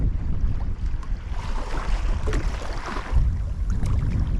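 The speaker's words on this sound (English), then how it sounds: "this wind isn't making things easy either. Very choppy out here." Strong wind and choppy water slap around a small fishing boat in far-northern waters, a steady, close rush of broadband gusting noise with no speech.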